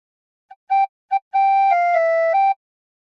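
A tin whistle plays a short opening phrase of The Battle Hymn of the Republic: a few clear, separated notes followed by a longer sustained run, bright and close, with no talking.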